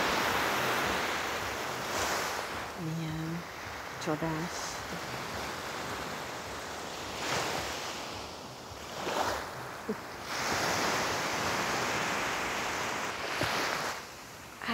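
Ocean waves break in broad, loud surging washes that rise and fall over a constant roar, with wind buffeting the microphone. A voice speaks briefly over the surf.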